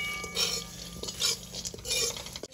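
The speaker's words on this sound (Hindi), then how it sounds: "अब इसमें किशमिश डालकर फिर से इसे हल्का भून लेंगे।" Raisins lightly roasted in a pan with poha chivda ingredients over low to medium heat, giving soft scraping stirs and a few metal clinks of a spoon against the pan, with no talking.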